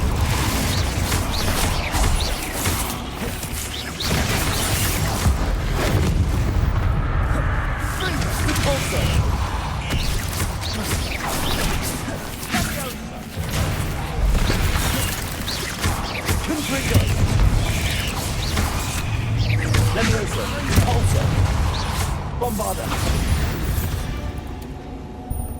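Confringo and Repulsor spell blasts in Hogwarts Legacy, a dense continuous barrage of booms, crashes and magical impacts under loud game music, with a voice shouting the spell names over the din.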